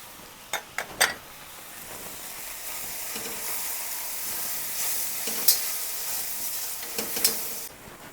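Kolhapuri onion garlic masala sizzling on a hot iron dosa tawa, a steady soft hiss with a few sharp clinks and scrapes of stirring near the start.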